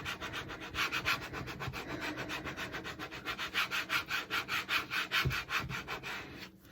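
A scraper tool rubs a transfer onto a resin car coaster, a close, even series of quick back-and-forth scraping strokes with a steady rhythm, with no talk.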